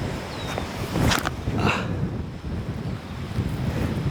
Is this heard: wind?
yes